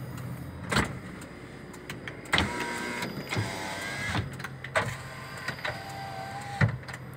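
Power windows on a 2015 Karimun Wagon whir up and down in several short motor runs, each ending in a soft thud, heard close inside the car with no talking.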